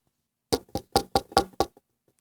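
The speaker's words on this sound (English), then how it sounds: "Fidget knocks on the door." Six crisp, evenly spaced knocks on a door ring out alone in a quiet room, each rap sharp and distinct.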